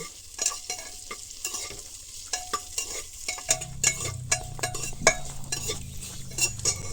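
Cashews, coconut and spices frying in a pan for Bengali pulao, with a spoon stirring and scraping against the metal in steady repeated strokes over a soft sizzle that thickens partway through.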